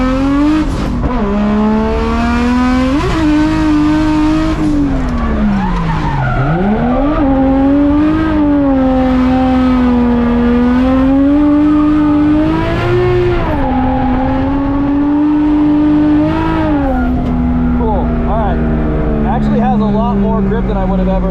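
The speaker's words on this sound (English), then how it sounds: "First drift lap in this car." A car drifts around a track, its engine holding a loud, continuous high-revving drone that rises and dips with throttle changes while the tires squeal and scrub underneath, recorded close from inside or on the car.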